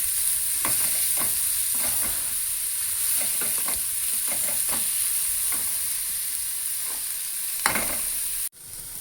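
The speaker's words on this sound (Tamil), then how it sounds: "அப்புறம் கிள்ளி போட்ட காஞ்ச மிளகா. அப்படியே நல்லா வதங்கணும்." Broken dried red chillies fry in a pan with a constant hissing sizzle, while a series of spoon scrapes and stirs land at irregular intervals before an abrupt cutoff.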